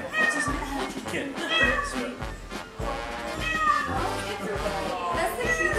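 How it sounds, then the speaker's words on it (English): A very large 28-pound house cat meows repeatedly in drawn-out, wavering calls, close and fairly loud, with a person talking softly around the cries. "Shauna, look at this kitty."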